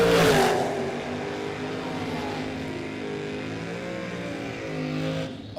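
Drag racing cars at the Mutt and Jeff Race, including a Charger with a 540-cubic-inch Mopar engine, roaring loudly as they accelerate hard down the strip, engine pitch climbing through the run.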